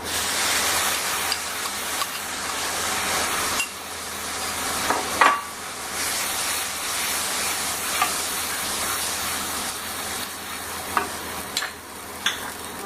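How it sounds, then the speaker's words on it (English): Tomato puree going into a pan of pav bhaji, Mumbai street style, with a loud continuous sizzle and hiss of frying under occasional stirring and the light clinks of a spoon against the pan. "Now we'll add a tomato puree."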